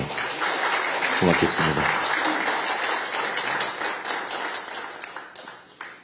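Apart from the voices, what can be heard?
audience applause for President Lee Jae-myung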